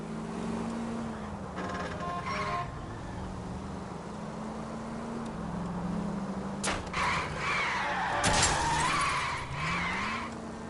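A car in an L.A. Noire chase drones along with engine noise, then tires screech in a sharp skid partway through, followed by further squealing rises over the continuing road rumble.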